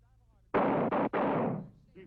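Small arms gunfire on a training range: one loud, close report followed by two more in quick succession, each ringing out with a long decaying tail, with no talk in between.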